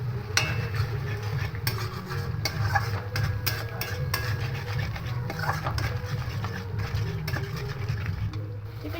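Spice paste with a little water and salt sizzling and being stirred steadily in a pan while cooking doi katla (fish in yogurt curry), a continuous close frying hiss with scraping strokes, no talk.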